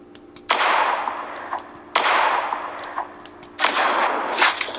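Electronic shots from a Sharper Image AR Blaster augmented reality laser game, three loud synthetic blasts each followed by a lingering hiss, spaced out over a few seconds.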